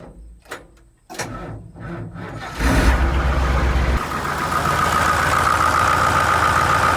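A Massey Ferguson 1805 tractor engine cranks with a few short bursts, catches with a loud roar, then settles into a steady, rough, close idle.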